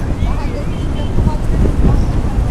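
Strong wind buffets the microphone in a continuous low roar at the Nagarjuna Sagar dam spillway, with a rushing, watery wash of spray from the open gates behind it.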